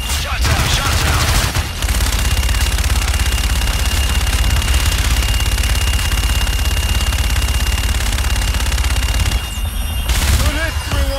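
Sustained automatic gunfire in Call of Duty: Infinite Warfare roars loud and steady for about ten seconds, a dense rattling barrage that breaks off briefly near the start and again near the end, with game radio chatter mixed in.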